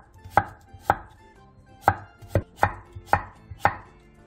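A knife slices halved cucumber diagonally into thin strips on a cutting board, making seven crisp, sharp chops at a slightly uneven rhythm, close and clear in a quiet room.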